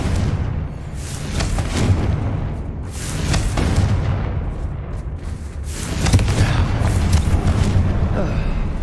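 Confringo, a fire spell in Hogwarts Legacy, explodes in a loud, rumbling blast, with booming bursts and crackling debris layered over game sounds and music.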